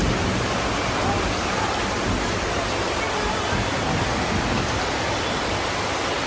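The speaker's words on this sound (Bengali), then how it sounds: "অনেক জোরে বৃষ্টি, অনেক জোরে।" Heavy monsoon rain pours down outside a flooded veranda, a loud, dense, unbroken roar of water that stays constant throughout with no pauses.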